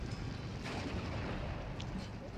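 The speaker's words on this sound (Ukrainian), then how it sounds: "моя гарматка. От звідси починає навалювати по цьому Шерману." Artillery gun in the WWII strategy game Steel Division 2 firing at a Sherman tank, a dense, continuous rumble of booming shots and battle noise held steady at a distance for a couple of seconds.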